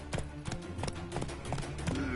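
Horse hooves clip-clopping at a gallop in The Witcher 3, a steady rhythmic beat over game music, with someone talking over it.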